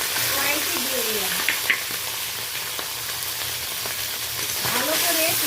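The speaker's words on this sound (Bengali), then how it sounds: "এই দেখুন আমি কিছুটা পরিমাণ মাছ কড়াইতে দিয়ে দিলাম" Tengra fish frying in hot oil in a kadai, loud continuous close-up sizzling with occasional spatters and a faint scrape, running evenly throughout with no speech.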